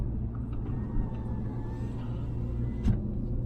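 Inside a car driving slowly through the small German town of Oranienburg, a low engine rumble and road noise hold steady, with a short bump near the end.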